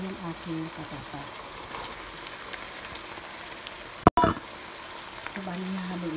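Potatoes being stirred into ground meat frying in a pan for Filipino sopas, a steady sizzling hiss throughout with a brief sharp clatter partway through.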